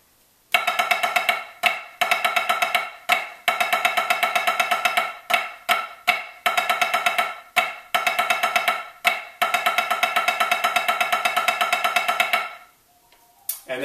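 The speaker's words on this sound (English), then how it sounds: "So the entire exercise will sound like this." Snare drum playing a single stroke roll exercise, bursts of rapid even strokes in measures separated by short gaps, loud and close, steady sextuplet-style rhythm with brief pauses throughout.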